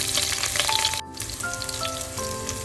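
Sliced garlic drops into hot sesame oil already crackling with mustard seeds and fennel for a potato curry, giving a bright sizzling hiss with a brief break and a renewed splutter as it hits the pan.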